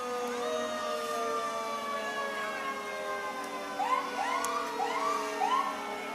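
A fire engine siren wails at a St. Patrick's Day parade, a long rising and falling tone from a restored Engine 11, fairly distant, joined near the end by short whooping yelps over steady outdoor crowd ambience.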